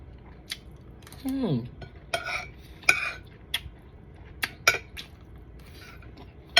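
Spoon clinking and scraping on a plate while eating fried rice, with sparse sharp metallic taps and short scrapes at irregular intervals, and a brief voiced sound early on.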